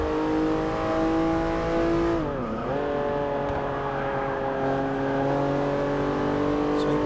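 A Porsche 911 Turbo S engine in Forza Motorsport 6 at Road America holds a steady, loud drone. It dips briefly as the throttle is eased and a light brake is applied, then climbs back to a sustained whine.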